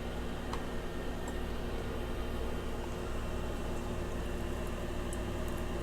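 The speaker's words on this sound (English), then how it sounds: "And it seems like the wings are frying." Chicken wings frying in a hot electric fryer give a steady, even crackling hiss with faint ticks over it, continuous and moderately loud for the whole stretch.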